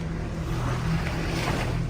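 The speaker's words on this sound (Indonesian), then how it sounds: "ombak di sini nggak begitu besar" Gentle ocean waves wash onto a sandy beach shore at night, a steady broadband surf wash with a low rumble and no voices, the waves modest rather than large.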